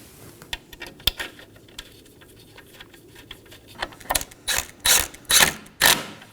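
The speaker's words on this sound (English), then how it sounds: "Now for my horn bolts, line them up and snug these down." A ratchet snugging down the bumper horn bolts on a Nissan Maxima, scattered light clicks at first, then several loud, close bursts of rapid pawl clicking near the end.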